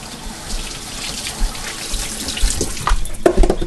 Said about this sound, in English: I'm going to give my hands a quick wash with some soap and water